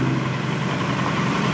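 A red Isuzu Rocky ten-wheel dump truck idles at a work camp, its steady, loud diesel rumble running continuously without variation and with no talking over it.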